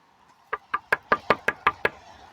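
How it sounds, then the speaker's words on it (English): Eight sharp, evenly spaced knocks on a door at a peace camp's caravan site, loud and close with nothing else heard. "See if we can knock on the door."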